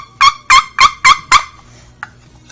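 Wooden box turkey call with a curved, rosined paddle scraped across its thin walls gives five loud, raspy yelps in an even rhythm, then a faint short squeak after a pause, close up with no talking.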